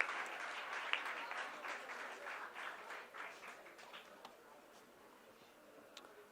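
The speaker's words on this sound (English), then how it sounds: "A big round of applause for Ms. Deepta Vivekanand for coordinating the entire event" A round of applause from an event audience at the close of a program, a steady patter of many hands that swells briefly and then slowly thins out, moderately distant and without speech.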